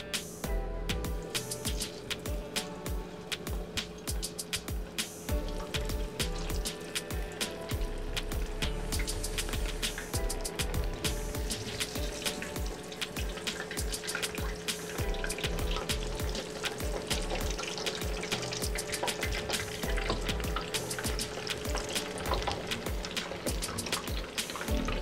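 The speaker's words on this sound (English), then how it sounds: "my oil is ready, so I'm gonna go ahead and start frying the bammies." Continuous crackling and bubbling of bammies (cassava flatbread) frying in hot oil, dense and steady throughout, with no one speaking.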